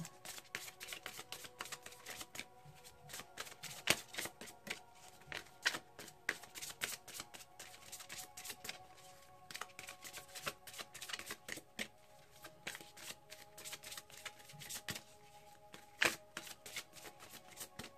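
Tarot cards being shuffled continuously for a daily reading, with dense close-up riffling and snapping of card edges that keeps going with no pauses and no voice.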